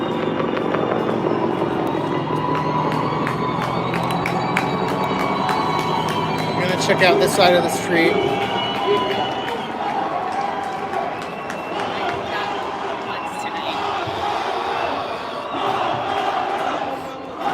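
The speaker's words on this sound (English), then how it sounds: "They're getting loud." Armenian protesters crowd a Hollywood freeway and Sunset Boulevard, their shouts and chants swelling into a loud, continuous roar with scattered bursts, someone speaking nearby over it.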